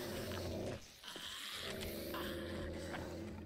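Low, rumbling dog growls in the survival video game 7 Days To Die, sustained nearly continuously with a brief break, close and fairly loud over game ambience.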